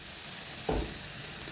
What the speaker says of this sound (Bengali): এবার আলুগুলোকে বেশ লাল করে আমরা ভেজে নেব